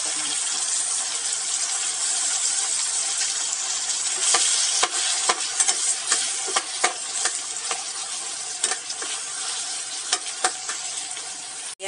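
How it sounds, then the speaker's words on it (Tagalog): Tomatoes go into sautéed onion and garlic in a pan for pork menudo, with a continuous close sizzle and frying hiss punctuated by stirring clicks and scrapes throughout. "Lagyan natin ang kamatis."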